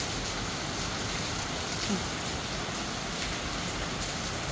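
Rain falling steadily, a dense, even hiss with no pauses and no clear voices, heard throughout at a constant level.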